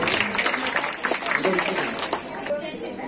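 Audience applause at a children's dance performance event, a dense wash of clapping hands at moderate distance, mixed with crowd chatter and an announcer speaking over it.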